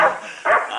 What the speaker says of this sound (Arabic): أرجوكم أرجوكم أبعدوا هذا الكلب